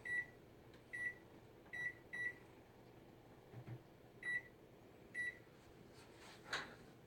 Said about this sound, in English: So you want to go over and turn your timer on.